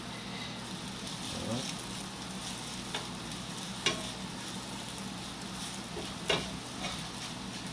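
Bakes frying in a pan of oil, a soft steady sizzle running throughout with a few faint clicks and scrapes, heard close and fairly quiet with a voice speaking over it now and then.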